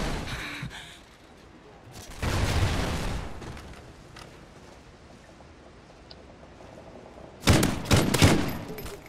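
A two-shot weapon in Warzone fires in two separate loud bursts, one near the start and one near the end, with quieter game ambience between them.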